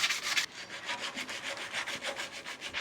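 Sandpaper rubs back and forth across a painted car wheel being prepped in a home garage, a steady, close scratching rhythm of quick strokes with no talking.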